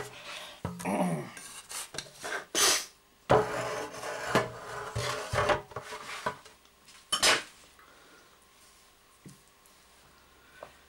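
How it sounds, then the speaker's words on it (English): Pastry for an apple and bacon pie is moved into a baking tin, with close clatters and scrapes of metal tin and utensils, a few sharp knocks among softer handling noises. "Transfer it to baking tin, which we should have done earlier."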